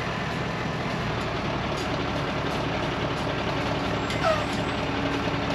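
A camper truck maneuvers slowly into holes dug in beach sand to level itself: a steady, loud engine rumble runs throughout, with a brief hiss near the end.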